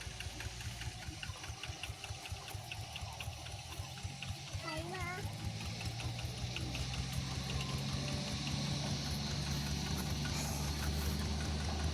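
A tractor plowing a field runs with a steady low, throbbing engine rumble that grows slightly stronger midway, while people talk over it.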